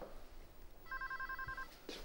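A telephone rings in a Greek television drama scene, giving one short electronic trill at moderate volume over a quiet, faintly humming room.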